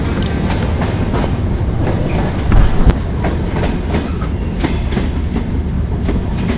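The Chilahati Express rumbles steadily into Birampur station platform with rhythmic wheel clatter on the rails, a brief louder thump midway, continuous and fairly close.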